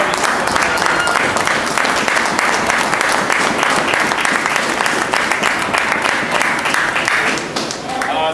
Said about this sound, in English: So let's give a nice round of applause for the juniors.